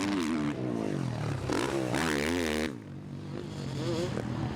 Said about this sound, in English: These 450 single-cylinder engines putting around about 70-75 horsepower.